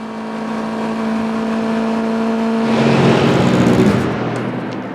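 A race car from the 2016 6 Hours of Spa endurance race enters the pit lane, a steady engine drone swelling louder and brighter around the midpoint as it passes close, then easing off.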